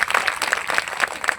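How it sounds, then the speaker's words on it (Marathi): Applause from an audience at a Yuva Bhim Sena rally: dense, lively clapping from many hands, fairly close and steady through a short burst. "टाळ्या."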